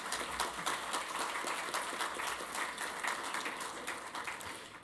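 Conference audience applause at the GLOBSEC 2016 closing remarks. Faint, distant and continuous clapping with dense, even patter, heard on its own.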